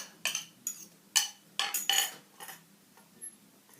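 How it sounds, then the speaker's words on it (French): Chocolate hazelnut cookie dough being mixed in a bowl, with a series of light scraping clinks of a utensil against the bowl in irregular strokes, close and fairly quiet. "Et ensuite, on mélange. Voilà. Mélangez bien jusqu'à l'obtention d'une belle pâte."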